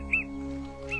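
A father bird's call ringing out in two short, high chirps, one near the start and one at the end, fairly faint over a steady low hum.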